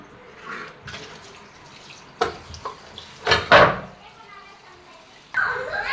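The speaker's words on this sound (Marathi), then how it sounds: "हे आता आपण आता चांगलं स्वच्छ याला धुवून घेऊया 2-4 पाण्यानं." Cleaned catla fish rinsed in water, bursts of splashing and pouring at close range separated by quiet gaps, with a voice faintly in the background.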